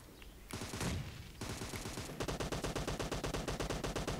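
Rapid M762 assault rifle gunfire from the PUBG Mobile shooter game, loud short bursts followed by a long steady automatic volley of evenly spaced cracks, heard alone without talk.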